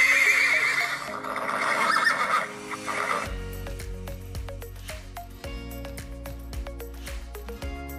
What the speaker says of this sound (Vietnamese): Hôm nay mình sẽ review cho các bạn một em ngựa bạch cái đấy, đang chuẩn bị đi đàn nhá.